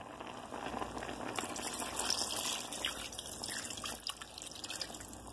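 Two cups of clean water poured into a pot of beef tips seasoned with hot sauce, a steady splashing, trickling flow close by that carries on throughout without any talk.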